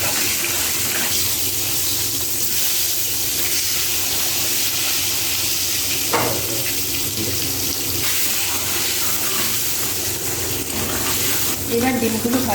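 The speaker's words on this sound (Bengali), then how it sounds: "আমি ডিমটাকে ভেজে নেব।" Eggs fry in oil spiced with biryani masala, salt and turmeric, making a loud, continuous hiss and sizzle close up for the whole stretch, with a few brief clatters near the end.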